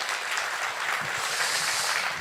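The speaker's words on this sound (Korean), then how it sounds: "박수 한번 주십시오." A lecture hall audience claps at a motivational talk, a fairly quiet, even patter of applause lasting a couple of seconds with no voices over it.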